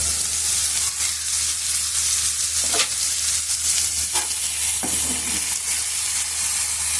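Tomatoes sauté in a hot pan for paneer butter masala, giving a steady, close sizzle with a few scraping stirs of the spoon breaking through.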